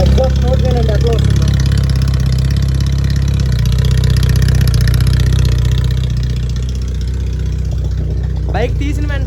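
A motorcycle idling steadily after a cold start following three days unused, a continuous low, loud engine drone with a brief higher rev-like sweep near the end.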